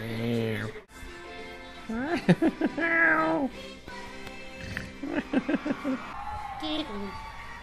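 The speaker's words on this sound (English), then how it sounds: "Happy kitty is happy." A cat meows in stretched, wavering cries, repeated in a few bursts, close and clear, with a voice speaking between them.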